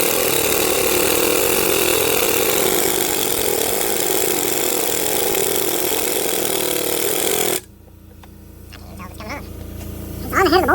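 An impact tool or wrench works at the harmonic balancer bolt on a Land Rover BMW 4.4 V8 engine, a loud, continuous close-up rattling hammer that stops abruptly, followed by quieter clicks and faint speech.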